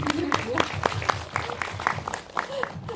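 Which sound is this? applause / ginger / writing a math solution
applause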